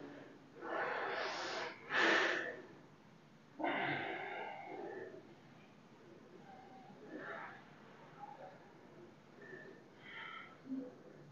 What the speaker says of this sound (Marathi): एकदा एक दीर्घ श्वास घेऊन सोडून द्या